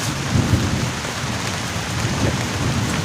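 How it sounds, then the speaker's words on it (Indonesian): Heavy rain falls during a thunderstorm at a campsite, beating down on a tent in a dense, continuous roar, with low rolling thunder rumbling underneath. "Sekarang tuh udah turun hujan"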